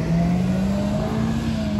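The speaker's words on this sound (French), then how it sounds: "Oh, il est énervé avec la Suzuki là-bas." Near a Paris supercar gathering, a Suzuki car's engine holds a loud, steady rev that climbs slightly over a couple of seconds amid street noise.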